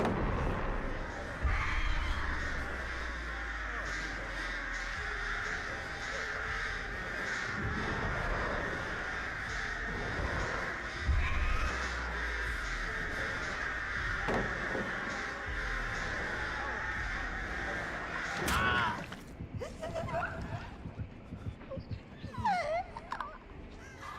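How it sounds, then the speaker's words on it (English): Crows cawing in a video game, repeated harsh caws over a steady game backdrop across the whole stretch, with a few fainter calls near the end. "I thought I got rid of the birds."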